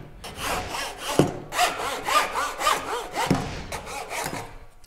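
A hand saw cuts the end off a wooden book stand component held on a shooting board: steady back-and-forth rasping strokes, close and fairly loud, with no talking.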